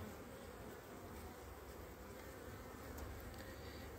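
Honeybees crowd a brood frame lifted from the hive, a dense, even buzzing hum that holds close and steady throughout.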